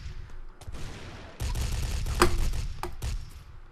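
Rapid gunfire bursts from the Brick-Force video game, loud and close, with dense crackling volleys after a brief lull and sharp individual shots standing out near the end.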